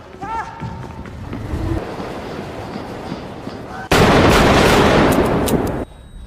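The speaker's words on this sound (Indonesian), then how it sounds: "Arthur kemudian mengambil pistol dari dalam sakunya dan menembak para pemuda songong itu satu persatu hingga tewas." Pistol gunshots in a film scene, several sharp loud cracks ringing out in quick succession after a stretch of quieter background sound, then stopping abruptly.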